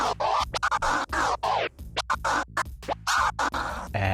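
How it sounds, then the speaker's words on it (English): DJ transformer scratching on a crossfader: a record sample chopped into rapid on-off bursts in a stuttering rhythm, some notes swept up or down in pitch, loud and close, with no talking. "in this one we're going to check out the transformer scratch that sounds like this."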